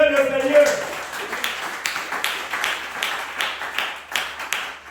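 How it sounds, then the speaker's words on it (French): A church congregation at a Tuesday worship service claps together in a loose, fairly even rhythm, with a brief voice at the start and crowd noise mixed under the claps. "À vous tous, applaudissez le Seigneur."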